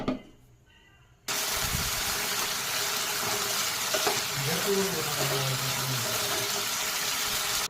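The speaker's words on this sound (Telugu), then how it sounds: "మనం కట్ చేసి పెట్టుకున్న పొటాటోస్ వేసుకొని గోల్డెన్ బ్రౌన్ కలర్ వచ్చేలాగా ఫ్రై చేసేసుకోండి" Cut potatoes dropped into hot oil in a pan and fried until golden brown: after a brief quiet moment, a loud, dense sizzle starts abruptly and holds steady throughout.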